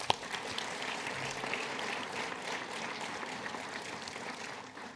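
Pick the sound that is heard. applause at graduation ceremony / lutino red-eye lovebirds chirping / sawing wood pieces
applause at graduation ceremony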